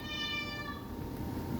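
A pet house cat meows in the background, a single drawn-out, harmonic cry lasting over a second, fairly faint against steady room noise, with no talking.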